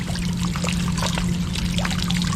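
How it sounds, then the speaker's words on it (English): Water spills down a small improvised waterfall, a continuous close splashing trickle with a low steady hum beneath it. "So maybe tilt it down so you have this secondary kind of waterfall."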